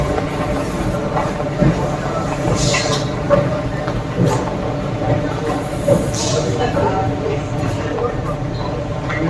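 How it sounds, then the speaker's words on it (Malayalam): Train noise inside an underground railway station in Munich, Germany: a rumbling, clattering carriage with occasional squeals and clanks, loud and close, with people talking amid the echoing din. "ഇത് മ്യൂണിക്കിലെ ഒരു റെയിൽവേ സ്റ്റേഷനാണ്. Railway station complete അണ്ടർഗ്രൗണ്ടിലാണ്."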